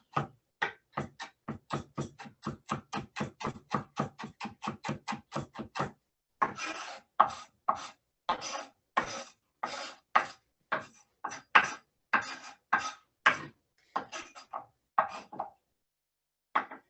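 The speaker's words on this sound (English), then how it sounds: "once I get them down, I start coming through and keep chopping until I get them as fine as I want" A chef's knife chops nuts on a wooden cutting board. Quick, even taps come first, then slower, heavier rocking chops with short gaps, all close and crisp in a quiet room.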